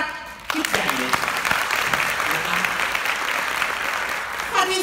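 An audience claps at an AIA MDRT insurance seminar, a dense, steady burst of applause that starts abruptly and fills the room, with a voice speaking alongside it.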